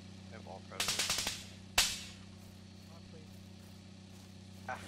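Gunfire in a battle royale video game: a rapid burst of about six shots followed by one sharp, loud report that decays away, then quiet game ambience with a steady low hum.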